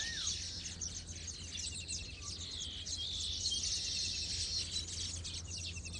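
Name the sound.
baya weaver birds chirping near their nests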